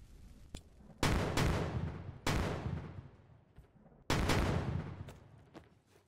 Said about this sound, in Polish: Eksplozje są strasznie głośne.